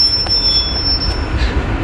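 A train brakes to a stop at a red signal on the line of the Cumbrian Mountain Express, wheels squealing in a thin high whine over a loud rumbling roll.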